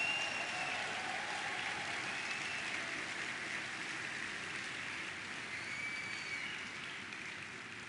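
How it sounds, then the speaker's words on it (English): A large hall of General Synod delegates applauding the youth, a dense, steady wash of clapping that sounds almost like rain, moderately distant and fading slightly toward the end. "I'd like to hear you give them a rousing round of applause"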